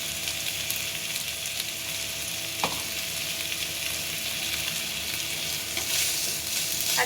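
Kashmiri red chili powder fries in hot oil for a Bengali Lote fish curry, a steady close sizzle broken by occasional scraping knocks of a stirring spoon against the pan, with no talking.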